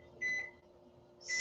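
A kitchen timer for a chaffle maker sounds two short electronic beeps, the second louder and brighter, close by in a quiet kitchen with a faint hum underneath.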